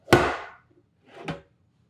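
Steamed turnip cake turned out of a loaf pan, landing as two dull thuds: a solid knock followed about a second later by a softer, muffled plop, close by with quiet between.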